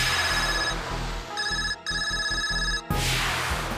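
A mobile phone rings with a repeating electronic ringtone, loud and near, in bursts broken by short gaps and cut off near the end.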